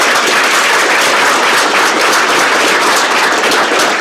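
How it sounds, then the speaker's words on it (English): Dense, loud applause from a large crowd at a graduation ceremony, a continuous wash of clapping that stays even from start to finish. "Let's give a round of applause to say thank you to our speakers today."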